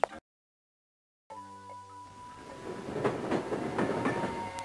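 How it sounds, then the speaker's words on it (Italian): A train from a video game set at a railway station rumbles in along the tracks with a steady clickety-clack that grows louder after a brief silence and a faint tone. "Ho sentito che sta per arrivare il treno."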